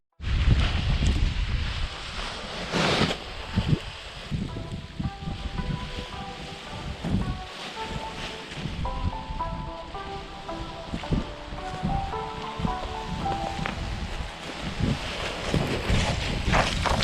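Strong wind of about 30 km/h gusts at a paragliding take-off site, a loud, constant roaring buffet across the microphone that never lets up, with faint tonal flutter in the middle.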